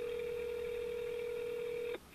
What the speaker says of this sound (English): I called the phone number